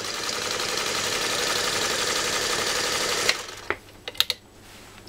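A Singer 301A sewing machine runs fast through leather with a dense, steady mechanical whir for about three seconds, then stops, leaving a few sharp clicks and taps close by.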